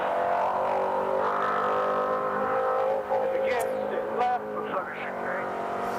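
A Baja 500 race truck drives through soft sand with a steady, droning engine roar under heavy drag, and someone talks over it throughout.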